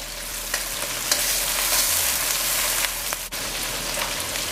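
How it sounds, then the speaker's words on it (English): Garlic and wiri pepper fry in a pot with a bright, crackling sizzle, loud and close, with scattered pops and a few stirring knocks over a steady hiss. "Now I'm going to add the garlic and wiri pepper"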